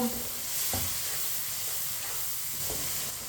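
Peas stirred with a spoon as they cook in a pan for matar pulao, a steady sizzle and hiss with a few soft scrapes of the spoon, close and continuous, no talking.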